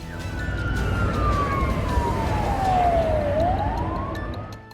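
A police siren wails across the coastline, warning residents to move away from the shore, its single long tone sweeping slowly downward and then rising again over a constant rumbling background, loud and fairly close.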